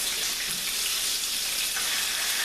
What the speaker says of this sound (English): So we've been frying these for about